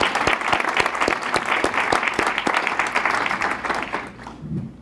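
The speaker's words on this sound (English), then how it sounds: "How about a little round of applause for Frank and his family?" Applause from a gathered audience at a medical center building project event, dense close clapping with sharp individual claps that thins and fades out near the end.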